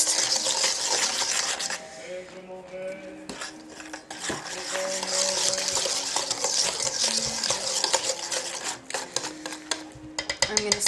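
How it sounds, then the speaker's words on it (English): Dry ingredients being mixed into gluten-free chocolate cupcake batter, with busy clattering and scraping of a utensil against a bowl in quick irregular strokes, loud and close over background music. "And now we're going to incorporate the dry ingredients."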